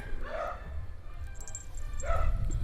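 Dogs giving two short yipping barks about two seconds apart, fairly close, over a low rumbling background.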